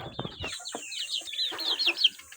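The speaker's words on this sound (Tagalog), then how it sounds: "Aking mga sisiw." Chickens and chicks cluck and peep softly at close range, a few low clucks followed by a run of high chirping, with nobody speaking.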